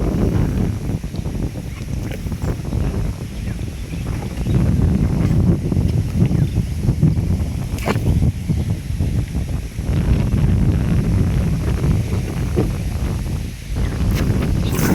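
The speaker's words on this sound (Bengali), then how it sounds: "ইস কি বাতাস চালাইছে" Strong wind gusts over an open wetland where fish are being caught, roaring steadily into the microphone in loud, buffeting waves, with rustling and a faint watery wash beneath.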